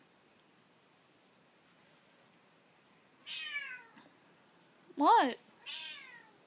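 A pet cat meows several times indoors, drawn-out rising and falling cries close to the microphone, with one louder call in the middle and a brief spoken word among them.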